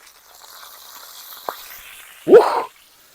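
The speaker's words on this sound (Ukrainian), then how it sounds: "Ах, як захварчав і запах." Crucian carp fry in a pan on a sadzh. After a faint, low background hiss, one brief loud burst of sizzling flares up close and quickly dies back, with no speech.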